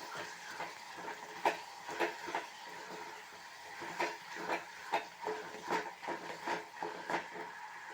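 Ingredients sautéing in hot oil in a pan for a South Indian vatha kuzhambu, a soft steady sizzle broken by repeated scraping and stirring clinks from a spoon, close by with no talk.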